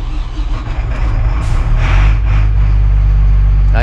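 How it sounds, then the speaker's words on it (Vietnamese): 2010 Doosan DX300 LCA excavator with a DL08 diesel engine running close by, a loud steady low rumble that swells and thickens midway as the throttle rises. "Các bạn nghe tiếng động cơ con động cơ DL08 nhé."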